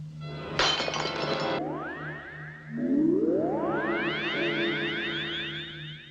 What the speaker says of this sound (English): a glass of water which she drops, causing it to smash